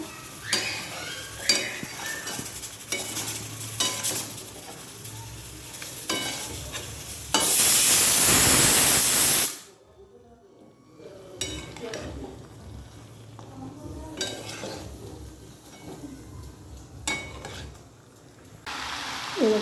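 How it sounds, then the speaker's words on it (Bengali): Chicken and potatoes being stirred and sautéed in a pan, with repeated utensil scrapes and clinks against the metal, a loud stretch of sizzling frying in the middle, and someone talking between the stirring. "আলুগুলো দিয়ে আরও কিছুক্ষণ কষবো মাংসটা"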